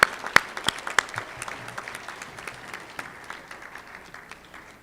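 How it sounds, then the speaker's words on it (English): Audience applause at a centennial celebration of a Rotary Club in Tucson, opening with a few sharp close claps that swell into a steady round and then gradually fade. "a big round of applause for everyone who put this"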